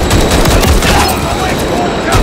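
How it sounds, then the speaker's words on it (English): Heavy gunfire in Call of Duty: Modern Warfare 3, loud rapid bursts and sustained automatic fire filling the whole stretch, dense and close, with a brief voice blending into the noise. "Suppressive fire here now."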